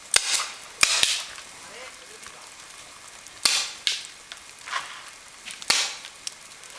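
A paintball marker fires in sharp, separate pops at an outdoor field, about six shots spaced irregularly, moderately close, with faint background noise between them.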